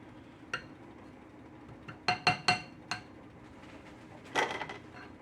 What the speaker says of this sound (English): A big enough spoon to dip these out.